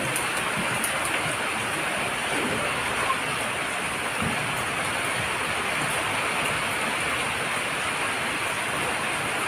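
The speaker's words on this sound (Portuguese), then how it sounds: "Ó, está chovendo." Steady rain pours on and around a chapel in an old abandoned factory, a dense continuous hiss with no break, heard from inside under shelter.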